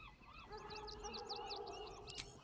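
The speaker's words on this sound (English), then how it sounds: "these must be important birds indeed, Mr. Dakarios" Faint, distant pigeons call in a Baldur's Gate 3 game scene, a string of short repeated calls over a quiet ambient background.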